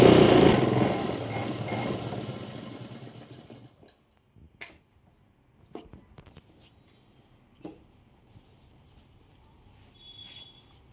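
Sewing machine stitching a blouse hem with a rapid mechanical whir for a few seconds, then stopping, followed by scattered soft handling clicks and rustles.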